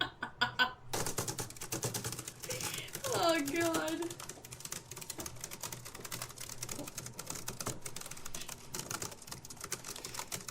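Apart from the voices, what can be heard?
typing on a computer keyboard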